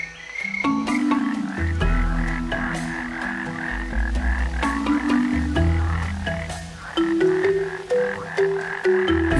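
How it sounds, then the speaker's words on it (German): A large cane toad croaks steadily, a loud, low, continuous pulsing call layered with repeated clicking notes, close and alone. "Die große, landlebende Kröte lebt neben Süd- und Mittelamerika heute auch in Ozeanien, der Karibik und Australien."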